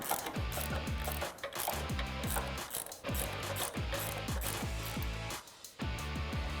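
A ratchet tightens a nut while SR Performance lowering springs go onto a 2006-2022 rear-wheel-drive Dodge Charger. Quick bursts of close metallic clicking repeat in steady strokes, with brief pauses between pulls.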